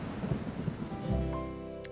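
Cartoon thunderstorm: steady rain patter with a deep rolling rumble of thunder swelling midway, loud and close, no voices.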